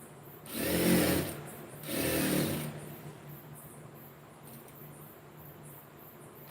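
A sewing machine stitching a lined blouse runs in two close bursts of about a second each, then stops, leaving quiet room noise.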